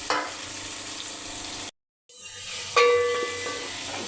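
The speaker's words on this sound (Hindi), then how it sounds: "इसको हम तेज़ आंच के ऊपर थोड़ी देर भूनेंगे" Vegetables sizzle and fry in hot oil in a pot over high heat, a steady close crackle that drops out briefly, then returns with a louder burst and stirring.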